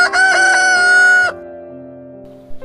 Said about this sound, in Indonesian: Dan saat itu pun berkokoklah ayam